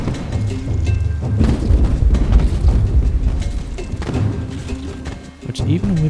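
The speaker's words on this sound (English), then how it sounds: "like just bombs going off sound effects." Bombs go off in a pirate-themed video game, with deep rumbling booms and thuds rolling one after another beneath a player's talk and game music.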